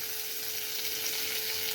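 Coriander sizzling and frying steadily in hot oil along with peanuts for Maharashtrian poha chivda, a close, continuous crackling hiss with no talk.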